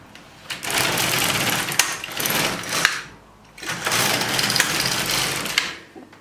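An LK150 knitting machine carriage is pushed across the needle bed in two long passes, giving a loud, continuous mechanical whirring rattle that stops briefly between rows.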